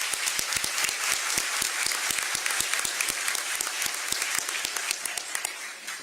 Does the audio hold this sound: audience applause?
yes